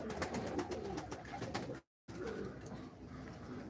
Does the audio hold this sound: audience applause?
no